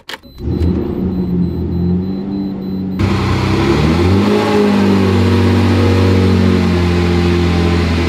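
A rebuilt Lamborghini Murciélago with an intermittent oil leak is being driven. Its engine gives a loud, close, deep rumble, rising in pitch as it revs up and then holding a steady cruising drone, with no talking over it.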